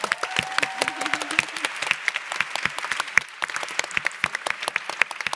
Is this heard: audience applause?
yes